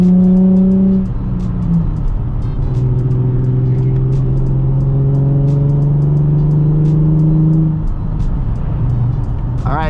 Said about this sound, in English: I literally cannot not do a burnout right there.